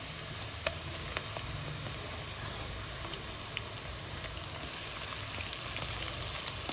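Steady sizzling of marinated chicken frying with onions in a hot pan, with occasional crackles and pops and a few light stirring clicks, no talking.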